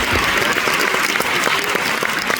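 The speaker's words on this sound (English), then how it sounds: "on va aller l'applaudir à Morris Chestnut" A studio audience breaks into loud, sustained applause to welcome actor Morris Chestnut, with sharp individual claps standing out within the steady wash.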